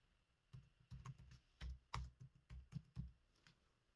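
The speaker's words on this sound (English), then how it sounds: "So we'll just type login," Keys clatter in a quick, uneven burst on a computer keyboard, a dozen or so close clicks and thumps packed into a few seconds, fairly quiet and with no talking over them.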